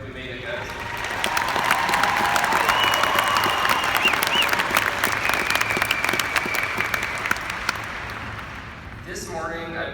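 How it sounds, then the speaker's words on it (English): Applause and cheering from a crowd at the Coronado High School class of 2017 graduation ceremony, a sustained, dense clapping that swells and holds for several seconds before tapering off at the end. "Can we get a round of applause for all the graduates real quick?"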